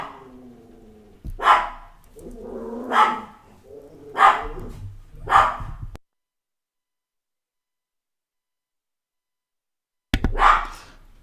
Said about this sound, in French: Pourquoi il grogne mon chien?